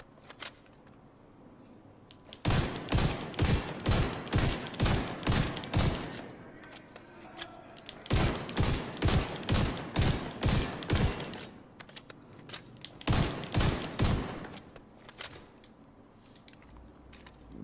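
Gunfire from a weapon in The Division 2, fired in three rapid bursts of evenly spaced, punchy shots with short pauses between, loud and close with no voices.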